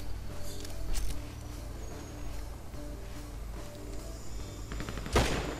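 Gunfire in the Grand Theft Auto V video game, a few scattered gunshots with the loudest sharp blast near the end, over a steady hum of game background sound and no talking.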